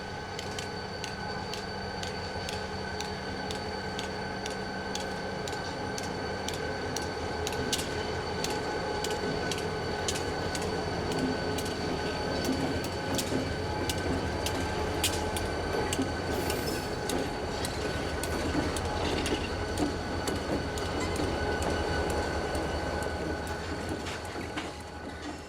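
A Missouri & Northern Arkansas Railroad freight train rolls steadily along the old Missouri-Kansas-Texas line, with a continuous rumble, clattering wheels and occasional faint squeals from the cars, staying loud and close throughout.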